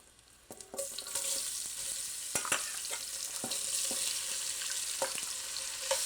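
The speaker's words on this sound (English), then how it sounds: "Turn this heat back on. Oh. And saute these veggies." Vegetables sauté in a hot pan in a small home kitchen, a bright crackling sizzle that swells as they go in, punctuated by clacks and scrapes of stirring, close up with no talk.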